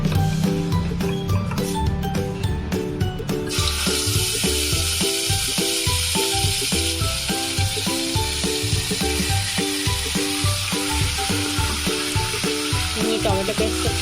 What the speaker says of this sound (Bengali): টমেটো পেস্টটা খুব ভালোভাবে কষিয়ে নেব।